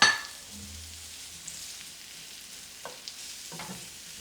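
Mushrooms sautéing in a pan with thyme over medium-low heat: a soft steady sizzle with a few scraping stirs, close and alone without any voices.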